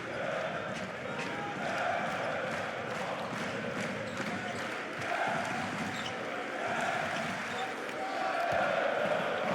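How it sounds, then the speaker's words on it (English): Fenerbahçe fans keep up organised chanting and cheering in the stands of the SAP Garden Arena at a basketball game, a steady broad crowd roar with scattered ball bounces underneath. "Orchestrated cheering up in the stands of the SAP Garden Arena from the Fenerbahçe faithful."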